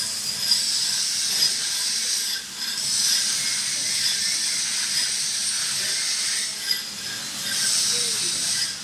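A hand file works a metal workpiece in a vocational school workshop, giving a continuous rasping scrape with steady repeated strokes and brief pauses, fairly close and alone.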